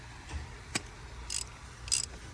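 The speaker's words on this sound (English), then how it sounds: "We'll take our wrench, switch it to righty-tighty." A ratchet wrench tightening a bolt on a 2014 VW Jetta, a few brief clicking bursts spaced apart, close but fairly quiet over a soft background hush.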